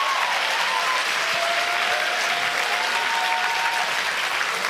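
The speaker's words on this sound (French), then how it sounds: "Merci d'accueillir et d'applaudir Monsieur Bertrand Perrier." A crowd at an eloquence contest final applauds warmly and continuously, a dense, even roar of clapping from a large audience, with a faint voice barely audible underneath.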